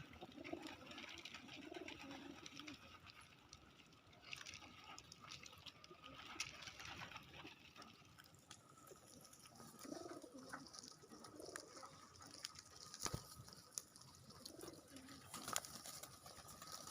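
Soft pigeon coos and scattered bird calls come through a steady outdoor background, with a few louder bursts near the end.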